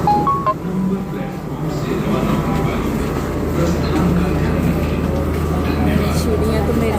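A metro train pulls out of a station platform with a steady, loud low rumble that fills the whole stretch, mixed with crowd and platform noise and a brief chime near the start.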